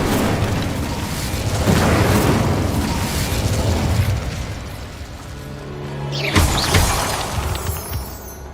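An Incendio fire spell blasts in a Harry Potter video game, a long roaring whoosh of flame with a sharp crackling burst near the end, loud and close throughout.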